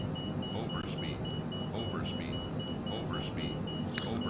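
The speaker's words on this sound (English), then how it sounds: "I wish I could turn off the alarm." An aircraft warning alarm beeps in a regular repeating pattern inside an iced-up plane in Microsoft Flight Simulator 2020. The tone holds steady over a constant engine drone, with a voice talking over it.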